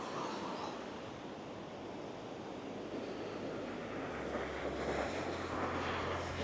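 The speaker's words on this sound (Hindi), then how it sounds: "वो चेक करो लहरें, कितनी ऊंची ऊंची लहरें आ रही हैं" High sea waves break along the Makran coast of Balochistan, Pakistan, a steady loud roar of surf mixed with rumbling wind buffeting the microphone throughout.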